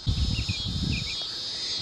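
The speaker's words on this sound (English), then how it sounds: "You hear the cicadas?" Cicadas drone in a continuous high-pitched buzz, with a few dull low thumps early on beneath the steady insect whine.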